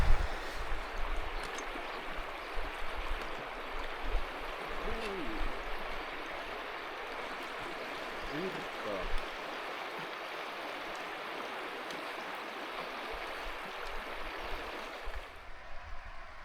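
A strong river current flowing past a wading spot on the Lemmenjoki in Lemmenjoki National Park, a steady, close broadband rush of water with a few faint, brief tonal sounds in the middle, easing slightly near the end.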